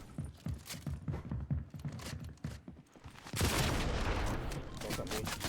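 Video game gunfire erupts in a loud, dense burst of rapid shots partway through, continuing steadily to the end after a stretch of quieter, choppier game sounds.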